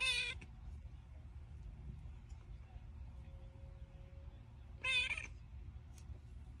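A cat gives birth to kittens and lets out two loud, strained meows, one at the start and one near the end, separated by a quiet stretch of faint background hum.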